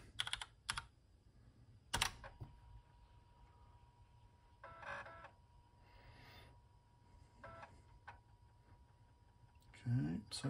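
A few separate keystrokes on a MEGA65 computer keyboard spell out a short command, with quiet room noise and brief background sounds between the clicks.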